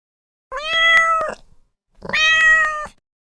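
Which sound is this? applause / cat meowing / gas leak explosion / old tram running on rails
cat meowing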